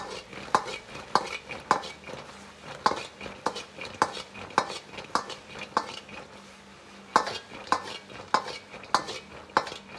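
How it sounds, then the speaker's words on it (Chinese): Fried fish slices being stir-fried in sweet and sour sauce in a wok, with a spatula scraping and clanking against the metal at a steady rhythm over a soft sizzle; no voices. "然后倒入炸好的鱼片，翻炒均匀，炒匀酱汁"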